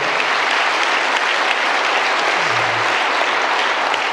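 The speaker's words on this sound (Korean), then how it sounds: "우리 하나님 앞에 영광의 박수." A church congregation at a Sunday evening service claps together in dense, sustained applause that holds evenly loud throughout with no pauses.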